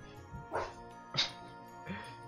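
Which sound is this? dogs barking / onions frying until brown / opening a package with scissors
dogs barking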